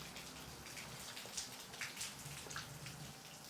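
Light rain falls under sunny skies, a soft, quiet patter with scattered, distinct drop hits spread evenly across the moment.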